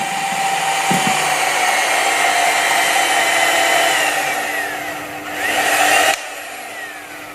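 An electric mixer beating pandan sponge cake batter, giving a loud, steady whine up close that rises briefly near the end and then cuts off, leaving a quieter hum; nobody speaks.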